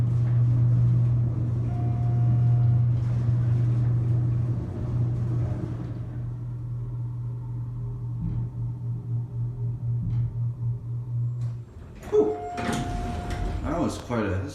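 A Schindler hydraulic parking elevator runs with a steady low mechanical hum and rumble, fading after several seconds, then a burst of rattling and clanking near the end as the car stops and the doors move.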